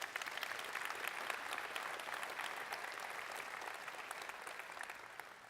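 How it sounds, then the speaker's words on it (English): Annual dinner audience giving the board of directors a round of applause, sustained dense clapping from a large crowd, even and continuous throughout. "Can we give them a round of applause, please?"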